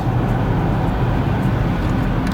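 A BMW 3 GT 320d drives on a road at night in sub-zero weather, a steady, loud interior drone of engine and tyre roar with no talk.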